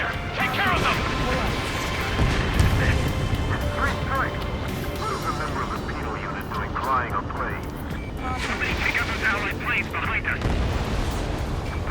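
Gunfire hitting an aircraft in the Ace Combat 7 video game, with dense explosive rumbles and jet roar throughout while radio voices talk over the action.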